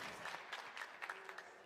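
Crowd at a PUBG Mobile World Invitational esports event applauding and cheering, a faint, distant wash of clapping with rhythmic swells, heard alone for a moment.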